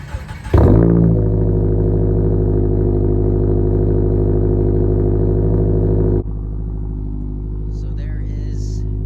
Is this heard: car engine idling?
yes